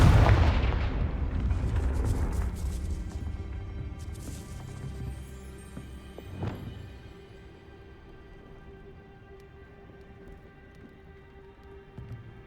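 A Confringo blasting spell explodes in the Hogwarts Legacy video game, a loud booming burst at the start that decays into a rumbling, crackling tail, followed by a smaller sharp impact before fading to quiet ambience.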